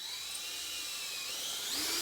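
A high-pitched drill whines steadily through a roller skate plate, boring the front mounting holes, continuous and fairly close, with no voices.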